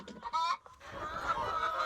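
Hens clucking at a laying nest on a farm, a few short throaty clucks up close followed by a drawn-out, wavering hen cackle, fairly quiet and alone.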